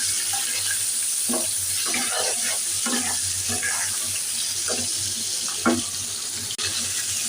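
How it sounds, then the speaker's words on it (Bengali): Onions fry in a pan with a steady hiss and crackle, punctuated by occasional stirring scrapes; no talking. "পেঁয়াজ ভেজে নিচ্ছি মাছ ভাজা হয়ে গেছে"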